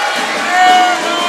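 A college basketball crowd at a Stillman College vs Talladega College homecoming game reacts to an airball with a steady, loud roar of voices that swells briefly in the middle.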